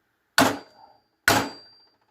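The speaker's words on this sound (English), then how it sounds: "I'm going to take this 4-pound hammer or whatever, 5-pound hammer, whatever size, and I'm going to bonk and" Two loud, separate metallic bangs from a 4- or 5-pound hammer striking a part of a Peugeot 404/504 BA7 four-speed gearbox during synchromesh repair, each ringing briefly before fading, with no talk.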